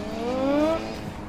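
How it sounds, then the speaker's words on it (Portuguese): Car drifting and skidding in a PS4 racing video game, with a rising engine whine and tire squeal lasting under a second, close and fairly loud against a steady game backdrop. "Olha o drift!"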